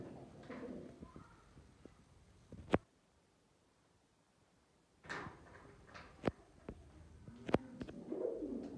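Pigeons in a village loft give soft cooing with a few wing flaps and sharp clatters, close by. A low murmur of voices and handling noise runs through most of it, broken by a quiet gap in the middle.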